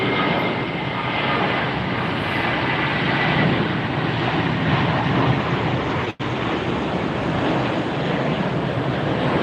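An airliner, Colorado 1, rolls down the runway at Tampa airport, a steady broadband engine roar held at constant level with wind noise on the microphone and one brief dropout near the end.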